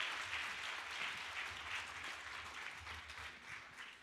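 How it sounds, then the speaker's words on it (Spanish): Soft, distant clapping from a church congregation rises and falls in gentle waves, faint and continuous, praising God during a Spanish-language service. "Un aplauso al Todopoderoso, más fuerte"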